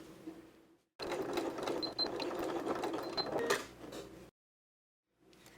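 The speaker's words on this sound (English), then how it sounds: "we're gonna fold this in and straight stitch it to finish it off" A sewing machine straight-stitches a yoga mat bag in one continuous run of about three seconds, a fast, close mechanical whir and patter, with a shorter burst starting again at the end.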